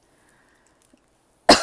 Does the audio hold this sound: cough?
yes